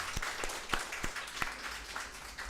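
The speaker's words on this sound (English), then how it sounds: "can we have a round of applause," A crowd applauds with a steady patter of clapping, moderately loud and continuous, with a few sharper individual claps standing out.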